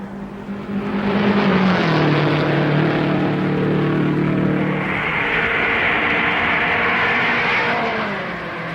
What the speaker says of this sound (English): Jim Rathman gets away from the pits to take a warm-up lap